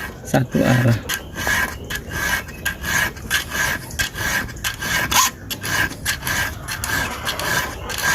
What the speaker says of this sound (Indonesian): Kikir seperti ini, usahakan sekali jalan Satu arah.